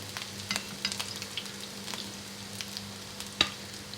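Beef pieces fry in hot oil with a faint, steady sizzle, punctuated by light spatula taps and one sharper clack toward the end.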